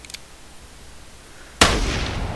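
A faint click, then after a short quiet pause a single loud rifle shot in a hunting video game cracks out and its echo fades away.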